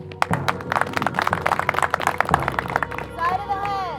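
An EMT class claps together in a classroom, a brisk run of close, irregular hand claps that fades into voices talking at the end.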